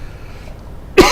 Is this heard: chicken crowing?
no